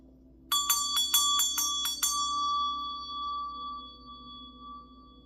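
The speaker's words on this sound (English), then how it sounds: "I'm going to ring my meditation bell." A meditation bell is struck several times in quick succession, bright metallic strikes followed by a long, clear ring that slowly fades over a quiet room hum.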